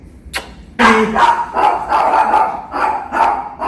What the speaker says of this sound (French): ce chien, c'est un chigneur professionnel